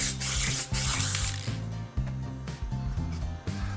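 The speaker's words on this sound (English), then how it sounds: "This is a degreaser." An aerosol can of degreaser sprays in several short, close hissing bursts with brief pauses between them while a kitchen cabinet is being prepared for painting.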